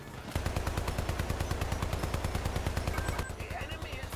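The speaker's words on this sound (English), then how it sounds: "it's a fast machine gun" A fast machine gun in the shooter game Hypercharged: Unboxed fires a rapid, steady stream of loud, evenly spaced shots for several seconds before cutting off.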